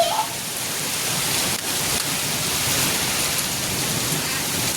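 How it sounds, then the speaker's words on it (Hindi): Steady rain pours down at the start of the season, a dense, even hiss of drops on surfaces filling the whole stretch at a constant moderate level, with no voices. "देखो भाई पहली बारिश है"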